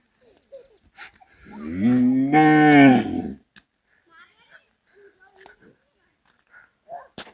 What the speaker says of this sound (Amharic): በሬው እያገሳ ከብቱ ሳር እየበላ